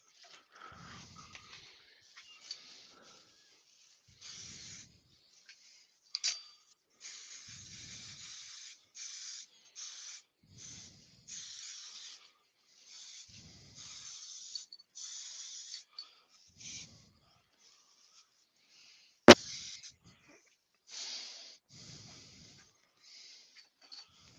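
Sanding sealer sprayed onto a woodturning project comes as repeated short hissing bursts, close and fairly quiet, separated by brief pauses, with no talking.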